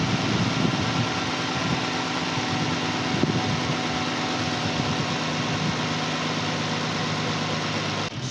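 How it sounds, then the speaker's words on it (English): A 2014 car engine idles steadily while its coolant is bled after a thermostat replacement, giving a continuous close rumble with fan whir, even and unbroken throughout, with no talk. "the next step is go ahead and start the engine"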